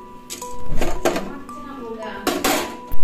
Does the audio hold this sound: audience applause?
no